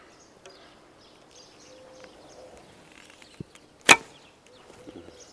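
A heavy arrow loosed from a short Turkish laminated bow at about 25 meters gives one sharp, loud impact crack near the middle, preceded by a fainter thud, over a quiet outdoor background.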